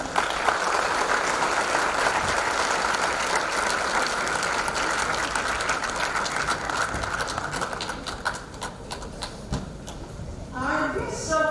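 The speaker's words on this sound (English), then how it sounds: "A huge round of applause for him, please." An audience at a felicitation program gives a long round of applause for an honored guest, steady and full, that gradually breaks into scattered, sharper claps toward the end, with a faint voice near the close.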